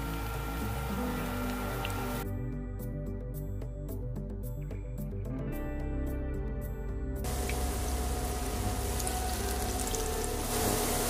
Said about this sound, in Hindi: बड़े को दोनों साइड से गोल्डन ब्राउन होने तक इसे फ्राई करेंगे